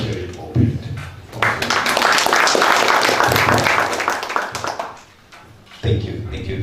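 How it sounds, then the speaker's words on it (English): Audience applause after the opening of a university science and technology workshop on malaria modeling, a burst of clapping that swells for several seconds and then fades, with a speaking voice before and after it. "Another round of applause to the VC."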